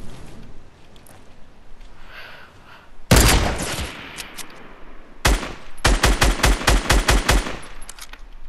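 Video game gunfire in Fortnite: a loud sustained burst of automatic fire, a short gap, then a rapid rhythmic string of close shots, with quieter game sounds before it and no talk.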